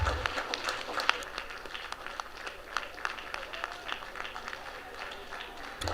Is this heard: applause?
yes